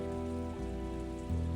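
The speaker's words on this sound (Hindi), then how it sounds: "अब बारिश रुकने का इंतजार तो करना पड़ेगा ना" Steady rain pours in a continuous hiss during a television drama scene, with a low hum and faint tonal music under it and no talk.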